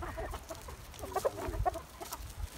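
Several chickens, including large Brahma hens, cluck and chatter softly in an irregular stream of short calls, close by with some rustling.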